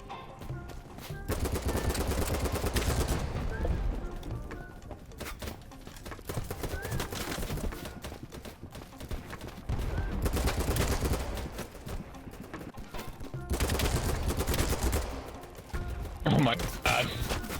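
Automatic assault-rifle fire from a heavy, high-damage rifle in the shooter game BattleBit Remastered comes in several long rattling bursts separated by short pauses, loud and close.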